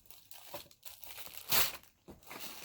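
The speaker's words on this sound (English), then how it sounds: "We love the sound of crinkling" Packaging crinkles and rustles during an unboxing, short quiet crumpling bursts with one louder sharp crackle in the middle, close up and with no talk.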